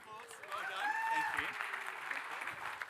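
Audience applause at a radio conference session, a moderate, steady patter of clapping with a voice speaking over it throughout.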